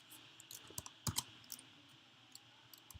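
Typing on a computer keyboard while writing Python code, a burst of quiet, close key clicks in an irregular rhythm with a cluster of louder taps near the middle.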